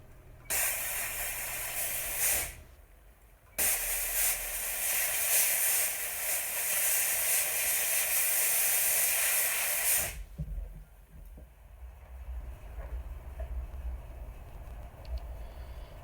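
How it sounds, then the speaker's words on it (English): Steam cleaner blasting a gold and diamond wedding band, a loud continuous hiss in two bursts with a short break between them, then cutting off to a quiet background. "once we finish the steaming process"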